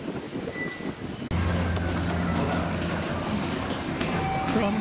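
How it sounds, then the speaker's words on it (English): A Kyoto Municipal Subway train rumbles and hums steadily at close range, with a sudden jump in loudness early on and faint murmur from commuters nearby. "Kyoto Municipal Subway."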